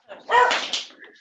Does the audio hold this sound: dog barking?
yes